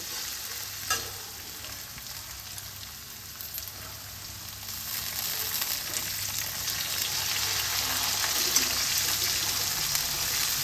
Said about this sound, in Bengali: এই লঙ্কা রসুনটা একটু ভাজা ভাজা করে নিতে হবে।